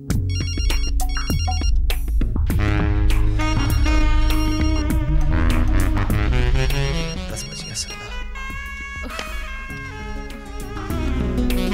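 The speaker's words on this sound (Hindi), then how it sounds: "बीवी का फोन है, नहीं उठाना" A mobile phone ringtone plays loudly and continuously, a bright melodic electronic tune with layered tones that softens slightly partway through, with no voices over it.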